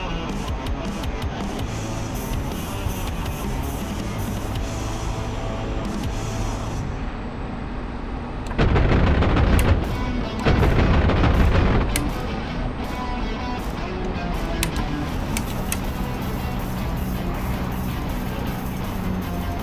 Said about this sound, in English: let's make a strafe run